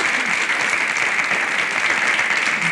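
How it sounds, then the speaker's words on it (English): An audience at a 1980 storytelling contest applauds the judges, a thick, loud and uniform roar of clapping that holds steady without pause or voices. "How about a nice round of applause for the judges?"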